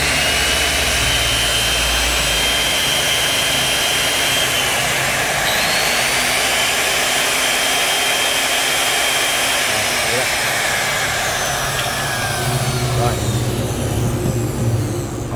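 A dirty, uncleaned Hitachi hand cutting machine runs steadily during a shop test, a loud continuous high-pitched motor whine with slight pitch shifts, while someone speaks over it.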